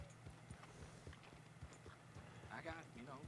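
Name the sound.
horse hooves clip-clopping in a roleplay video game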